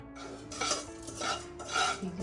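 Fennel seeds roasting in a pan, stirred with a utensil that scrapes and rattles against the metal in three short sweeping bursts, close up with no talking.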